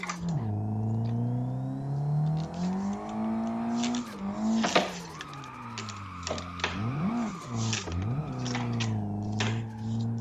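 A Nissan 180SX RPS13 in a racing video game drones along at sustained engine revs, its pitch rising and falling with gear changes and throttle lifts, with clicking key or controller taps layered on top.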